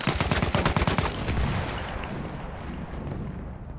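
Enemy SMG gunfire in the video game Battlefield 1 rattles in a rapid, dense burst of shots for about a second. The burst then fades into a rumbling, echoing battlefield wash, fairly loud and with no speech.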